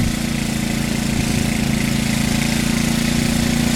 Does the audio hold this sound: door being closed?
no